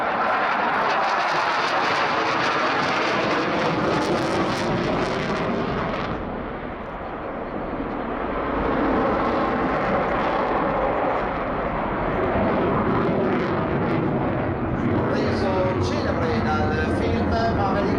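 A propeller aerobatic airplane roars loudly overhead at an air show in Jesolo, its engine rising and falling as it maneuvers, with a commentator talking over it throughout.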